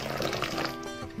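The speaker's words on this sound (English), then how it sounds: "wash the poha and now add little water" A short splash of water poured over soaked thick poha in a bowl, a brief close liquid gurgle that tapers off within about a second.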